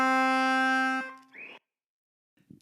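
An Anglo concertina plays a Frère Jacques phrase: one long, steady, reedy note rings loud and clear for about a second, then fades into a couple of brief, softer fragments.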